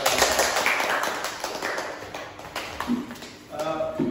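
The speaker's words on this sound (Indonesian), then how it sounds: "Nah, beri tepuk tangan dulu." A second-grade primary school class claps hands in a lively burst, close and fairly loud, the clapping thinning out as a few voices speak over it near the end.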